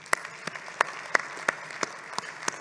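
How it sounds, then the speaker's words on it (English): Sparse, distinct claps at an opening session for speakers and panelists come as about nine separate sharp hits in a loose, slow rhythm over a quiet room. "So please, round of applause for our speakers and panelists."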